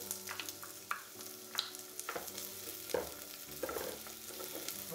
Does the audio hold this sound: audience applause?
no